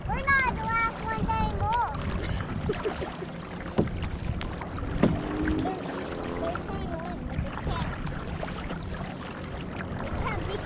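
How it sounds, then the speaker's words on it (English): A kayak ride on Canyon Lake: paddles splash and knock against the hull nearby beneath wind noise, while adults and children talk and call out throughout. "Kayak ride."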